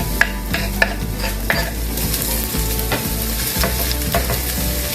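Garlic fries in hot oil for corn soup while a utensil stirs it, a steady sizzle broken by repeated sharp scrapes and taps against the pan.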